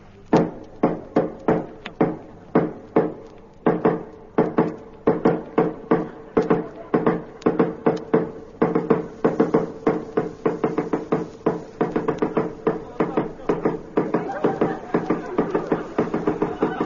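Rapid, insistent knocking on a door, used as a radio comedy sound effect, runs on and on in dense rhythmic bursts of sharp raps that speed into an almost continuous hammering.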